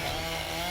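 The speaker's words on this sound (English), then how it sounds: "The chainsaw scene!" A chainsaw roars in a horror scene from Buffy the Vampire Slayer's Halloween episode "Fear Itself", a brief loud, steady buzzing drone with no pause.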